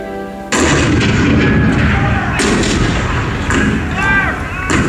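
Heavy cannon fire booms out in repeated blasts at the 1861 attack on Fort Sumter, loud and rolling, with the rumble of battle filling the gaps between shots.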